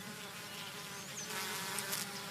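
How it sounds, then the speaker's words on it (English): Worker honey bees buzzing inside a hive, a dense, steady hum of many wings that holds at an even level throughout with no voices. "Worker bees do almost all the chores in the hive."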